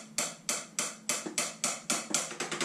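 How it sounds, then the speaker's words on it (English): Jobeky electronic crash cymbal with noise-control dampening, played without its sound module: a quick series of about ten dull, muted taps on the rubbery pad, faint and close, with no voices. "Here's my Jobeky electronic crash cymbal."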